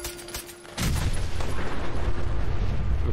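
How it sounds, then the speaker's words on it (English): A big explosion in a video game where the player wears power armor and fights Rust Devils: a sudden heavy boom that swells into a loud, sustained broadband roar and rumble, with no talking over it. "that big explosion is just going to make it harder to find"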